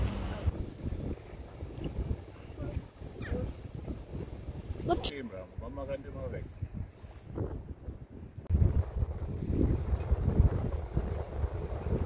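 A boat motor drones loudly on the water at Concarneau in Brittany, France, mixed with gusting wind buffeting the microphone while people talk over it.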